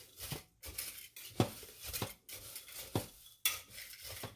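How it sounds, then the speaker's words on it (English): A small knife mixes chopped onions in a bowl with quick, light clinks and scrapes coming in short bursts, close and fairly quiet. "I have a little knife here. I'm just going to mix that up."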